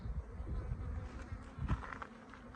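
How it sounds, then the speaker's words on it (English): Steady insect buzzing from bees near a beehive beside a canyon hiking trail, a continuous low drone with small swells, moderately close and fairly quiet. "Looks like there's a beehive in there potentially."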